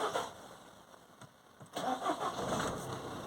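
A Citroen C4 Picasso with a long-crank fault cranks briefly, then its engine catches and settles into a quiet mid-pitched idle, recorded fairly faint and up close with no talk.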